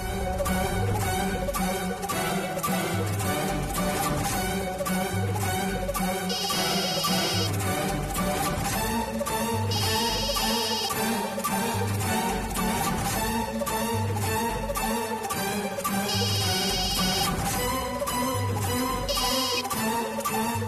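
A phone rings during a call in a Tamil TV drama, a looping electronic ringtone melody with bright repeated chirps that runs steadily and loudly for about twenty seconds with no talking.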